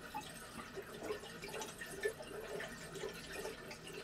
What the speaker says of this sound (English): it sounds like it's draining off